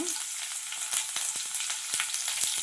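Green chilies hit hot oil with cumin and mustard seeds in a pan, giving a continuous bright sizzle dotted with sharp crackling pops as the seeds spit.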